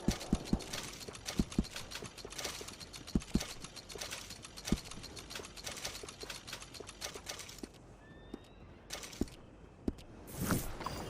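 Horse hooves clip-clop steadily in Red Dead Redemption 2, a repeated walking rhythm close by for most of the stretch, with faint mechanical clicks and a brief quieter gap near the end.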